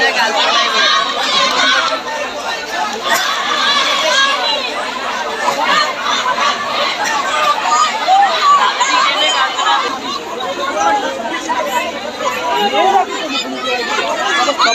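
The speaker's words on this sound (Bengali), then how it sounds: "ইডেন কলেজের শিক্ষার্থীরা কিন্তু আপনারা দেখছেন কিন্তু এই মুহূর্তে কিন্তু যে ছাত্রীরা রয়েছে ছাত্রীরা কিন্তু স্লোগান শুরু করেছেন" Female students of Eden College chanting slogans at a protest in Dhaka, a dense crowd of voices shouting together continuously, loud and close, with overlapping chatter throughout.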